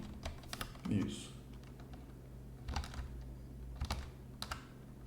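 Keys on a computer keyboard clack in scattered bursts of quick taps with pauses between, fairly faint and close, with a brief low murmur of voice.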